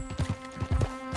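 Horse hooves clip-clop in Red Dead Redemption 2, a quick run of close, fairly loud thuds in an uneven trotting rhythm, heard alone with no talk over them.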